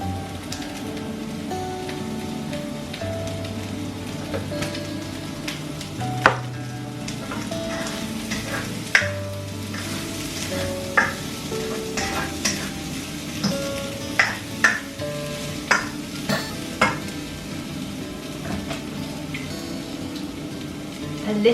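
Food sizzles and crackles in a hot pan after a splash of water goes in, a steady frying hiss punctuated by sharp pops and spatters, close up with no talking.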